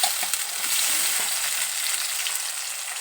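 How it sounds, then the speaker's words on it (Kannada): Blended tomato and green chili paste fries with already-browned onions in a pan over medium flame, giving a steady, close, continuous hiss and sizzle with faint stirring scrapes throughout. "ಸ್ವಲ್ಪ ಮೀಡಿಯಮ್ ಫ್ಲೇಮ್ ಇಟ್ಟು ಹಿಂಗೆ ಫ್ರೈ ಮಾಡ್ಕೋಬೇಕು ಇದನ್ನು"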